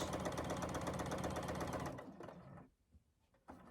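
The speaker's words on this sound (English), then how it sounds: "I'm just going to stitch right along the edge" A sewing machine stitches rapidly along the edge of a fabric facing, making a steady, close, whirring chatter for about two seconds before stopping, followed by faint handling sounds.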